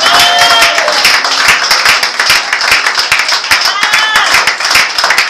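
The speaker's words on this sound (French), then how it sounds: "Acclamons le Seigneur." A church congregation claps loudly and rhythmically in praise of the Lord, with a dense, even beat of many hands close by and voices rising faintly beneath it.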